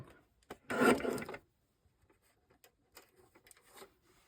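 A paper trimmer cuts card squares down to 1.5 inches, giving one short, close scraping slide followed by faint scattered taps and rustles.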